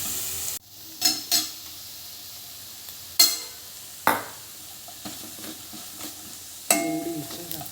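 Tomatoes sautéed with salt, turmeric and chili powder in a pan, heard as a few sharp stirring scrapes and clinks over a soft, steady sizzle, close by with no talking.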